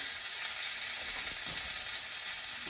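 Pork chops fry in a pan with a steady, bright sizzle that holds at an even level throughout, close up, with faint soft clinks underneath.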